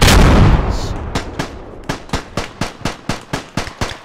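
Gunfire in the video game Beyond The Wire: a loud blast fades out, then a steady rhythmic series of about ten evenly spaced sharp shots rings out alone.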